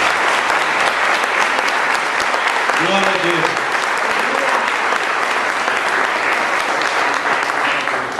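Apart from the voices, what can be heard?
church congregation applauding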